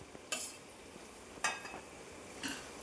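Spinach added to a pan and stirred, with three bursts of scraping and rustling against the cookware over a soft background sizzle, close and fairly quiet.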